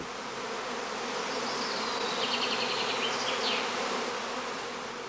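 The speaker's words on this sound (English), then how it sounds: "On the branches, swarming bees soon form a new cluster again." A dense swarm of honeybees buzzes continuously around branches, a thick steady drone with individual insects whining past.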